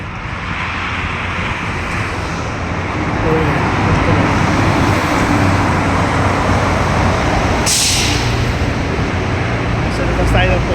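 Steady roar of highway traffic rolls on continuously, with vehicles passing close and one brief hiss standing out near the end.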